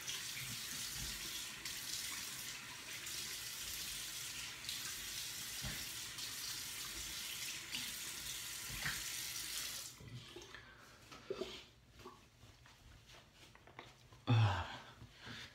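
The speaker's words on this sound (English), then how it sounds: "let's just rinse this off after shave." Tap water runs steadily into a sink for about ten seconds during a post-shave face rinse, then stops, leaving light splashing, dripping and handling noises close by.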